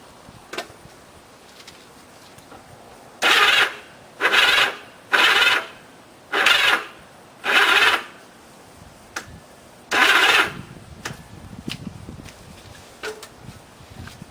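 A Kawasaki KZ 750 motorcycle starter grinding and struggling to turn the engine over, with six loud, laboured cranking bursts in a row followed by faint clicks, close up.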